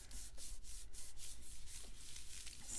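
A hand rubs quickly back and forth over the back of a paper craft piece lying on a crafting mat, a soft, even swishing friction repeated in a fast steady rhythm, close and quiet.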